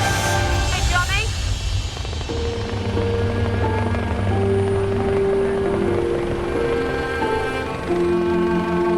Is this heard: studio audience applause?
no